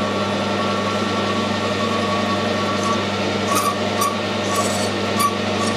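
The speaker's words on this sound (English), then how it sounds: "I'll slow the lathe down a bit," A metal lathe turns a ball for a 7 1/4 gauge model locomotive, giving a steady continuous hum with a low drone and faint scraping cutting noise, close and constant throughout.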